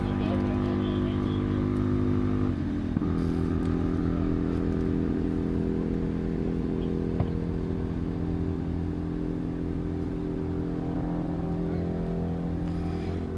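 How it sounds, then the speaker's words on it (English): A land speed racing motorcycle, bike 2055 of Kerr Racing, runs the course at El Mirage Dry Lake, its engine a steady loud drone that shifts pitch after a few seconds and holds strong throughout, with announcer talk over it. "On course now, bike number 2055, Jim Kerr behind the controls"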